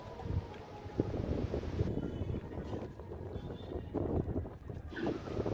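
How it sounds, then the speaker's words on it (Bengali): Steady, strong wind roars across the microphone in broad low rumbling gusts on an open seaside resort rooftop near the beach at Tajpur, with a constant blustery whoosh throughout and no voices. "প্রচুর হাওয়া এখানে, যেহেতু সামনেই সি বিচ আর চারদিক একদম ফাঁকা"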